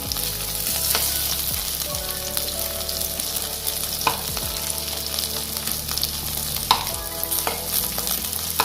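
Paneer posto fries in a pan with a loud, continuous sizzle close by, broken by scraping stirs and a few sharp clinks of the utensil against the pan; no voices are heard.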